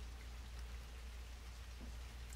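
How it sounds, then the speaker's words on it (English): Steady rain falls with a dense, even hiss and faint patter, continuous and fairly soft throughout. "Oh, look at that. The rain's picking up again."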